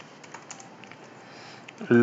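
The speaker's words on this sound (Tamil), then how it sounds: "இப்போ வந்து எக்ஸாம்பிள் வந்து நான் டைப் பண்ணுறேன்" A computer keyboard gives scattered light key taps, quiet and fairly close, ending in a louder burst of sound.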